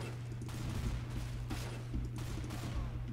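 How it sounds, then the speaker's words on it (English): Burst fire gunshots in the video game Counter-Strike GO, a series of short, evenly spaced bursts of sharp cracks about every half second over a steady low hum. "Oh, this is burst fire, isn't it?"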